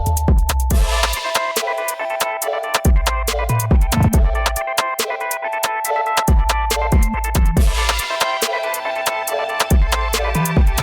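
A loud, bass-heavy drill-style remix of a radio show theme with punchy kicks, sliding low bass and a bright synth melody, playing continuously without vocals.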